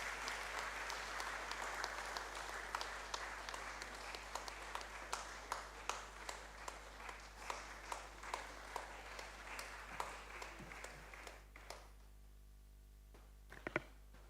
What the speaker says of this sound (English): Please let's receive Dr. Shube with a loud round of applause.